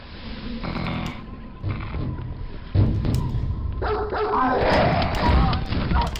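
A dog barks loudly in bursts nearby, the yaps and woofs growing more frantic toward the end over a background of game sounds.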